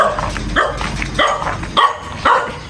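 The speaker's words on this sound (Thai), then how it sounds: "เฮ้ยอย่าเห่ากันไหม" Several dogs in front of a house bark loudly and close by, in a rapid run of overlapping yaps and woofs with brief whimpering yips mixed in.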